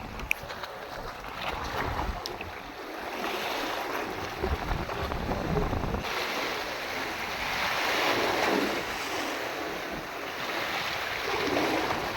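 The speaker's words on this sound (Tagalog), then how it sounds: "medyo mahangin" Strong wind buffets the microphone in gusts, with waves washing in the background near the shore.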